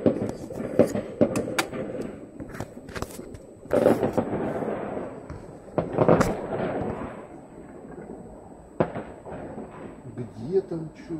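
Rapid, irregular crackling and booming bursts of fireworks, some loud and close, others fainter, with voices murmuring in between.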